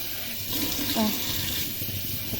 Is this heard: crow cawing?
no